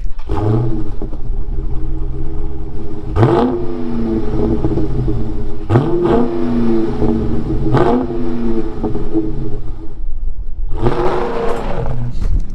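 A car engine revs repeatedly from inside the cabin, loud and close, with sharp surges of acceleration between steady droning stretches.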